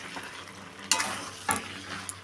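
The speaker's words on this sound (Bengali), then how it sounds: "সেটা দিয়ে আমি আবার ভালো করে মিশিয়ে নেব" Broccoli mixture with egg bhujia being stirred in a pan, soft sizzling under a few sharp spatula scrapes and clinks against the metal, close and fairly quiet.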